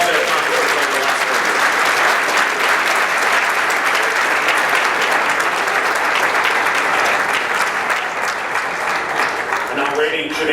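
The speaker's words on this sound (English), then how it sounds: "let's once again give all of these seniors a wonderful round of applause" Sustained, dense applause from a large luncheon audience honoring senior student athletes, steady and loud from start to finish with no break.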